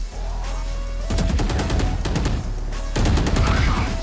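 Bursts of rapid automatic gunfire in the tactical shooter Valorant, played aggressively as the agent Gekko: a steady roar of repeated shots, then a pause, then a second loud volley, close and dense.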